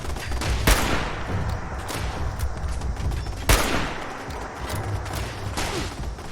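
Automated turret gunfire in the Fallout 76 PC beta: sustained dense rattling bursts of shots, with two sharper loud cracks standing out over a continuous barrage.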